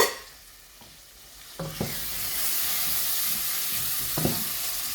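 Rice with boiled tomato is stirred with a wooden stick in a cooking pot, loud steady sizzling and frying hiss, with a few scraping knocks of the stick against the pot.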